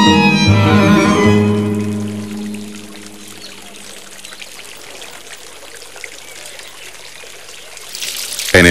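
Water trickles and pours in the Partal pools of the Alhambra in Granada, a louder splashing stream at first that settles into a soft, steady trickle with a tonal musical note fading at the start.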